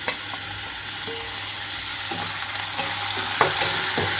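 Onions softening in a pan for a street-style tiffin chutney, frying with a steady loud sizzle while a spoon stirs them, producing occasional scraping knocks near the end.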